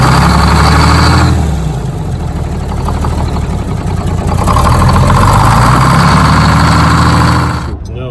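Detroit Diesel 6-71 engine running steadily after start-up, a loud continuous low diesel drone with a slight rise in revs partway through, then cutting off abruptly at the end.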